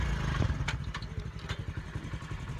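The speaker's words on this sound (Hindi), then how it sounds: "मोटरसाइकिल बंद कर रहे" A motorcycle engine idles with a rapid, uneven chugging near the listener, throbbing with a few clattery knocks as it is switched off outside a house at the end of a ride.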